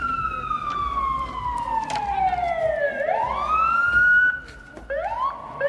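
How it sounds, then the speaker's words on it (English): A loud, close fire engine siren wails in long falling and rising sweeps, with a second tone joining near the end. "someone called the fire department. I hear sirens"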